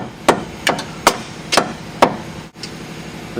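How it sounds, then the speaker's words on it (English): Hammer driving a lower ball joint up into the control arm during a Ford Windstar wheel bearing repair, five sharp metallic strikes at a steady, roughly half-second rhythm, close and loud, then a faint final tap. "Take a hammer and drive it up."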